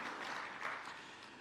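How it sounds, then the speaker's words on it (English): Audience applause for sponsors at a wildlife awards ceremony, a brief wash of many hands clapping together, quite faint and distant, continuous across the moment with no voices. "a big round of applause to our sponsors"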